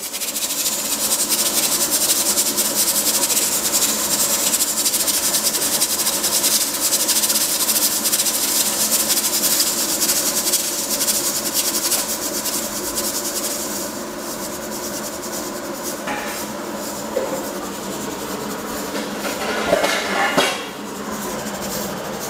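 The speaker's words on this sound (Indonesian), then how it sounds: "ini yang kecil udah ngewes duluan ya" A pressure cooker on a gas flame hisses steadily while ketupat rice cakes cook inside, a continuous loud rushing steam noise that eases slightly toward the end, with faint clinks.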